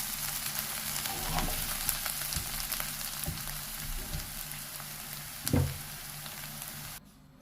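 Onions fry in a pan with a steady close sizzle and crackle, a few light utensil taps and one louder clatter near the end, before the sound cuts off abruptly.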